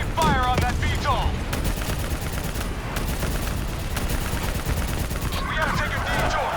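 Gunfire rattles through a Call of Duty Black Ops 3 battle against a VTOL aircraft, with dense bursts and rapid volleys loud and near, while radio chatter and shouted voices cut in at the start and end.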